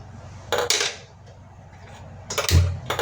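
A metal kadhai set down on a gas stove, giving a few sharp close clanks and scrapes of cookware with quiet pauses between them.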